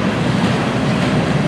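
Forty-three railroad cars of a hospital train with no working brakes are pushed along, giving a steady, dense low rumble and rolling clatter that holds at an even loudness throughout, with no voices over it.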